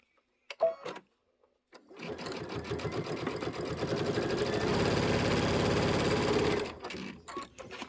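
A sewing machine quilts a table topper, running in one sustained steady whir for about five seconds after a few brief clicks, close and clear, then stopping; no talking over it.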